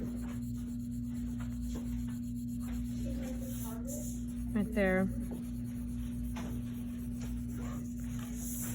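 Graphite pencil shading on paper, evenly filling a small box on a value scale, a steady soft scratching rub that runs throughout with a brief spoken remark partway through.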